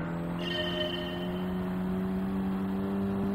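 A race car engine holds a steady high drone at full throttle on a snowy track in Gran Turismo 7, loud and continuous with no talk over it.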